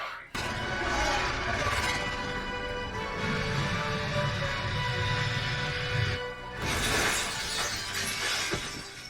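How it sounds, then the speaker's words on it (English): Glass shatters in a Star Wars: The Clone Wars scene, a loud burst followed by a dense, sustained clatter of fragments under dramatic score, ending abruptly before another crash. "Not the first time that glass breaks."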